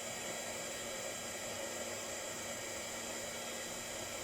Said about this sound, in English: I'm going to let the heat gun heat up